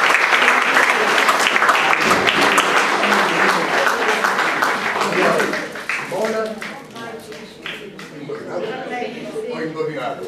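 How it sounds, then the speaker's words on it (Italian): Loud audience applause fills a hall after a musical duo's performance, a dense roar of clapping that thins after several seconds as a voice begins talking over the fading claps. "Facciamo un applauso forte,"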